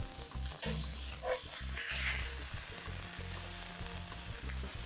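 A smashburger patty sizzles in a hot pan, a close, continuous crackling fry with small bursts of spattering and no voices.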